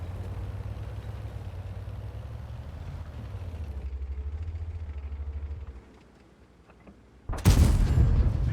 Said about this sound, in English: Artillery came in, hit an ally.